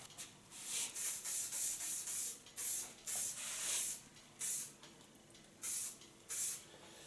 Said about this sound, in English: Take a little bit hairspray of Lanza.